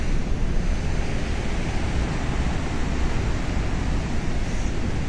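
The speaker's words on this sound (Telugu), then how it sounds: "గేట్లు ఎత్తడం వల్ల వాటర్ ఫుల్ అయిపోయింది, చాలా ఎక్కువగా ఉంది." Heavy water pours through the opened gates of the Upper Sileru dam as a loud, unbroken roar of rushing flow, dense and constant throughout with no pauses.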